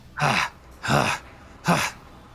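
Three heavy, ragged breaths from the visual novel Fate/hollow ataraxia, close and strained, each a separate rasping gasp with short pauses between, heard alone.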